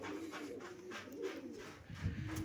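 Pigeons kept in a loft coo softly, a faint, continuous low murmur of several birds close by.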